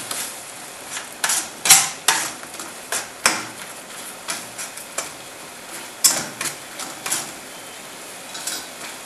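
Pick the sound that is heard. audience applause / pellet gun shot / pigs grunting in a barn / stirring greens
stirring greens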